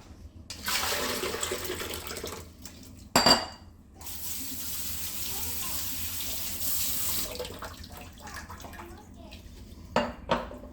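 Running tap water splashes steadily over potatoes in a sink for several seconds, with a brief clatter partway through and a few knocks near the end.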